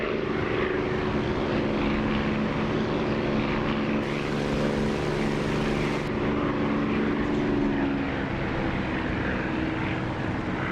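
Propeller aircraft engine in DCS flight simulator on landing approach with gear down, a steady loud drone with strong low harmonics holding throughout, pitch easing slightly near the end.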